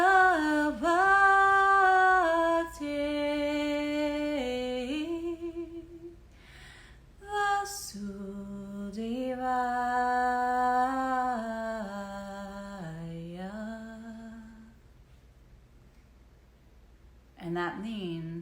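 A lone voice chants the Hindu mantra Om Namo Bhagavate Vasudevaya in a slow, melodic line of sustained held notes, several phrases separated by short pauses, fairly close and clear with no accompaniment.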